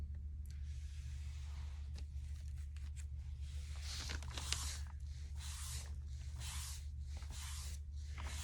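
Aerosol spray paint going on as a second coat over a laser cut sign, several long hissing bursts in the second half with short pauses between passes, close by and moderately loud over a steady low hum.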